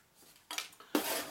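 ProCook Granite Stone non-stick frying pans being unpacked and handled, two sharp metallic clanks of pan against pan, the second louder with a brief ringing tail, close by with no talking.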